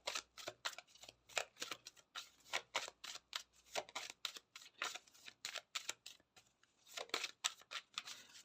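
Tarot cards are shuffled and drawn in quick, rhythmic papery riffles, close and soft, with brief pauses between bursts and no talking.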